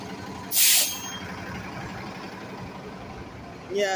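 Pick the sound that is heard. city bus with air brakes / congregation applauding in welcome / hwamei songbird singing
city bus with air brakes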